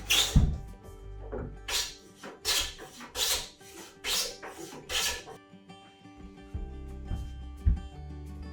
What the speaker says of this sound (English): Now we're shaving the doors with a hand plane to fine-tune the fit.